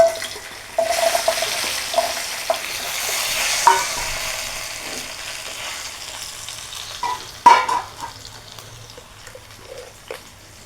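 Taro pieces fry and sizzle in a pan with a soft steady hiss, broken by a few stirring scrapes and clinks, fairly quiet, with no talking.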